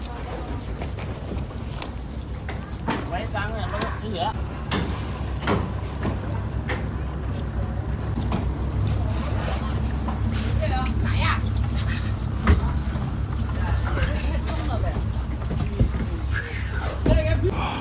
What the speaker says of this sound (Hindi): ये है कुछ बोट का इंजन